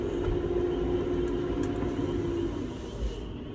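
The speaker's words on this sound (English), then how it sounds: "These trucks is dumb loud." A loud truck rumbles steadily close by, a heavy low engine drone holding for several seconds before easing slightly, with no talking over it.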